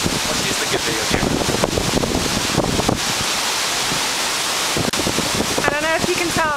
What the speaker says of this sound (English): I don't know if you can tell, but it's pretty windy.